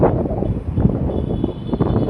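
Strong wind buffets the microphone in a continuous low rumbling roar, gusting unevenly throughout with no other clear sounds.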